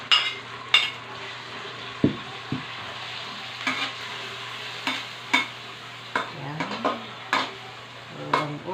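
Ground meat goes into a hot pan while vegetables are being cooked. It sizzles steadily at a moderate level, and a spoon scrapes and stirs against the pan in repeated sharp clinks.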